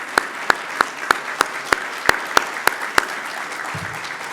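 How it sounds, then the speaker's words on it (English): Sparse, evenly spaced claps ring out at a ceremony honouring the Christian Brothers, about ten sharp hand strikes at a steady rhythm over a quiet room tone, ending with a faint low murmur. "Yes, we give you a round of applause."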